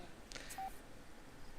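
A brief, faint single telephone dial tone in The Sims game, sounding once, as a repair technician is called.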